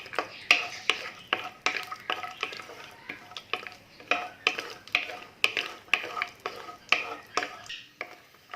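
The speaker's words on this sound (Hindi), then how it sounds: "इसे हमने 3 से 4 मिनट बिल्कुल हल्की आग पे फ्राई करना है।" Cashews and other dry fruits frying gently on a low flame in a pan, with steady soft sizzling and repeated scraping stirs of a spoon against the metal, close up and without talk.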